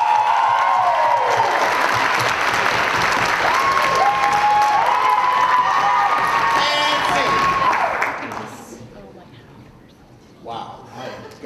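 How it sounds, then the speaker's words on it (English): A crowd at a university poetry slam finals bursts into loud applause and cheering for the poets, whoops and a shouting voice riding over steady clapping before it fades out into quieter room sound. "Let me get your best round of applause."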